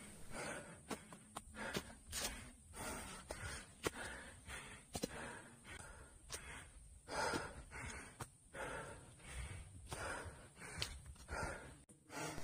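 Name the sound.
heavy breathing while hiking up a mountain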